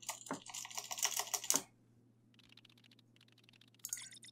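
A burst of fast keystrokes on a computer keyboard while logging in, close and fairly loud, then a pause and a few quieter, scattered key taps.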